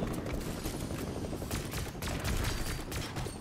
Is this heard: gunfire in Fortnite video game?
yes